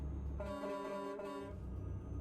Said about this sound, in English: you go through town at night time and you sound your horn